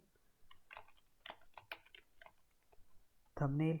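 Someone types on a computer keyboard, a quiet run of separate close taps that quicken and slow. A short burst of a voice comes at the very end.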